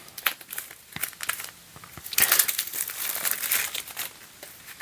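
Board game clue cards from 345 Shadows Amsterdam are handled and shuffled, giving a steady run of close crinkling and rustling with sharper crackles in the middle, and no talk.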